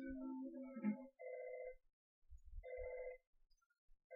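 A telephone rings in the video game Earthbound as two electronic ring bursts separated by a pause, clear and alone with no talk.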